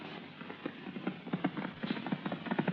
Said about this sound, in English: Mike, let's slow down to a gallop.